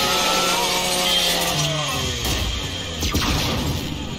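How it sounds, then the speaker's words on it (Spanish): The chainsaw bayonet on a Lancer rifle in Gears of War 5 grinds and revs loudly, a continuous buzzing roar with shifting pitch and crunching impacts over dense game audio. "Usa la motosierra de tu Lancer."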